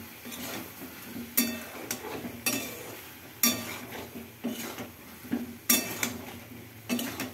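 Spiced potatoes being stir-fried in a pan for a vegetarian aloo dum, with sharp metal spatula clinks and scrapes against the pan recurring every second or so over a low background.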